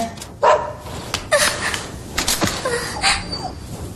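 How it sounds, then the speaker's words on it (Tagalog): A dog in an animated episode gives several short, sharp barks and yips in quick succession over a busy background of effects and noise. "Oh, ito na ang aso mo."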